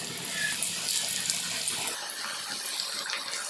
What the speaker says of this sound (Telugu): మనకి మంచి గోల్డెన్ కలర్ వచ్చేలాగా ఫ్రై చేసుకుందాం.